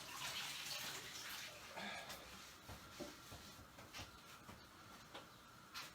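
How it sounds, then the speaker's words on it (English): Tap water running over a kitchen knife and fingers as they are rinsed after cutting chillies for a Thai green curry, a soft hissing splash with small shifts and drips, fairly quiet and alone. "So give your knife and your fingers a quick wash off with that afterwards."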